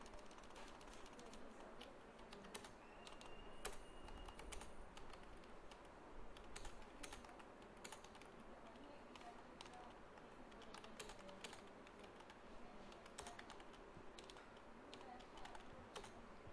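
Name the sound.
typing text on a computer keyboard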